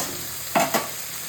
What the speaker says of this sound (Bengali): দু চার মিনিট নেড়ে নেবো